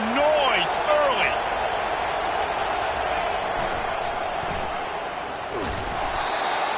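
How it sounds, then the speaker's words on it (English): Stadium crowd at a Georgia versus OU college football game roars as a broad, sustained wash of noise, with scattered whistles and shouts rising above it throughout. "This crowd bringing the energy and noise early."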